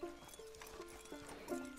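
Hooves clip-clop in a steady walking rhythm, with a horse snorting and whinnying over it, faint and game-like, in Red Dead Redemption 2.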